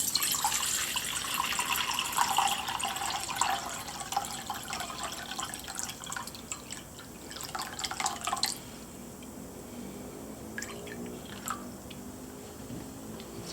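Water running from a tap into a Yeti Rambler stainless steel bowl, a steady close splashing stream that cuts off partway through, leaving a few scattered drips and quiet trickles.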